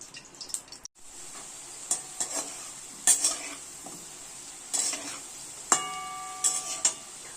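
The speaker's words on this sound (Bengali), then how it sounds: "এই আলুটা আমি এখন তেলটা গরম হলে আলুটা ভালো করে ভেজে নেব" Chopped potatoes fry in hot oil in a kadai, giving a steady, fairly quiet sizzle. Intermittent metallic scrapes and clinks from stirring break in every second or so.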